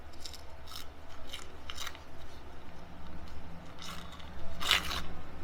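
Scissors snip a decoupage paper napkin laid over a clay pot, giving several short crisp cuts with brief rustling scrapes close up over quiet room noise.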